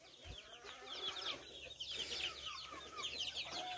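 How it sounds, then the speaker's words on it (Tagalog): Native chickens cluck and chatter in a busy flock on a farm, with quick overlapping calls and a few faint thumps nearby, fairly quiet and with no talk. "Laki na yung mga native chicken"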